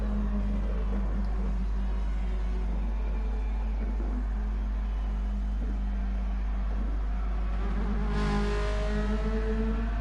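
Race car engines droning steadily as cars circle the Dragon Trail track in Gran Turismo, a continuous mid-level hum with rising engine pitch near the end, no voices over it.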